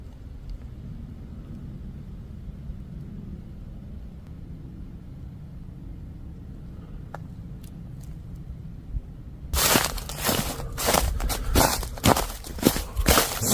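Footsteps move through a forest at night: after a long stretch of low, steady ambient rumble, a burst of loud, close, irregular crunching steps breaks in near the end.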